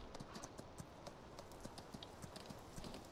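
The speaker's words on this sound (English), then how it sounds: "So we're going to take this old horse for a walk" Horse hooves walk at a steady, even clip-clop in the Farming Simulator 19 game, faint and unaccompanied, with no voices over them.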